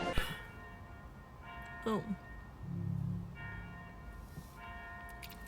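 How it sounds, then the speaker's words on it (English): Bells ringing at a distance, several ringing tones with a faint metallic shimmer heard quietly against background noise, with a brief voice early on. "I can hear the bells."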